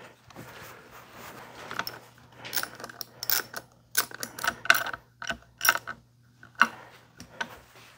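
A ratchet tightens a 10 mm mirror assembly bolt on the handlebars of a Royal Enfield Scram 411 motorcycle, giving irregular bursts of sharp metallic clicking with quiet gaps, close and moderately loud.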